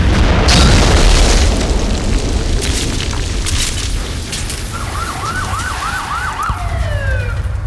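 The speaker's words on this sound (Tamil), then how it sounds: "இன்னும் 10 செகண்ட்ல வெடிச்சிரும்" A bomb explodes in a Tamil comedy film scene from Velayudham: a loud, broad blast opens, its roar slowly fading, and a siren wails briefly near the end.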